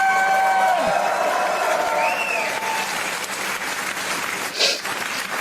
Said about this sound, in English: Cheer for Mr. Craig Campbell, ladies and gentlemen!